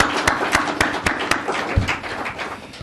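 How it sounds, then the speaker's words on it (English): Sparse clapping from a small audience at a QUESTtalks smart-energy talk: a handful of sharp, separate claps at an uneven rhythm, close and fairly loud, with brief gaps between hits rather than a full roar. "So just one more round of applause for everyone who's been there."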